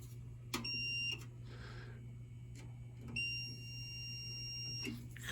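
A multimeter continuity beep while testing wiring on a Peerless PureFire boiler: two sustained electronic tones, each about half a second to a second, over a steady low hum with faint background noise.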